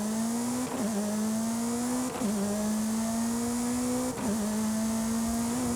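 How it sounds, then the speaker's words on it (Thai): A BAC Mono's naturally aspirated four-cylinder engine in Forza Horizon 5 drones at a high, steady pitch, dipping briefly every couple of seconds as gears shift, with a synthetic, game-like tone. "เนี่ยสี่สูบเสียงหวานๆนะครับ เครื่อง NA นะ"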